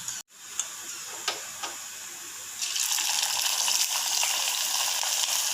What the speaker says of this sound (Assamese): এতিয়া আমি কেৰাহীত তেল দিছোঁ, গৰম হৈছে আৰু তাৰপাছত মেৰিনেট কৰি থোৱা চিকেনখিনি ভাজিম